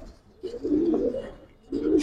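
A large Giribaz pigeon coos close by, two soft throaty calls separated by a brief pause.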